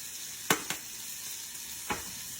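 Fajita vegetables sautéing in a pan, a soft steady sizzle broken by a couple of sharp scraping stirs early and one more later, close and fairly quiet.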